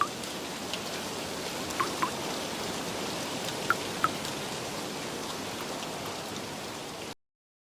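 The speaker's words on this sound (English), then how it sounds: "the rain still softly tapping against the window" Rain softly taps against a window: a continuous, gentle patter with occasional crisper drops standing out close by, steady throughout before ending abruptly in silence.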